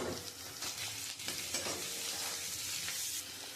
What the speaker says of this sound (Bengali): আমি পেঁয়াজটা একটু লাল লাল করে ভেজে নিয়েছি, এবার আমি ক্যাপসিকামগুলো দিয়ে দেবো।